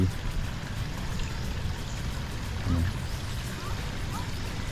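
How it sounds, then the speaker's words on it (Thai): Water runs continuously through a garden feature at a cafe in Chiang Mai, a steady, soft wash that stays even throughout, with faint voices in the background. "ทางนี้เขาทำเป็นแบบน้ำไหลไปเรื่อยๆนะ"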